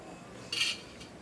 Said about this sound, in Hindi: इस घी को हम पतीले के पैंदे में फैला लेंगे।